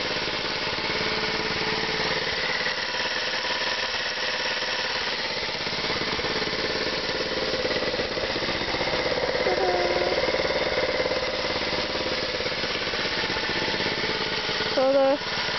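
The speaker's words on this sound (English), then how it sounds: "So this is a 2007 Baja 90cc dirt bike." Small 2007 Baja 90cc dirt bike engine running steadily throughout, a continuous close buzzing drone with little change in pitch, with a brief higher whine near the end.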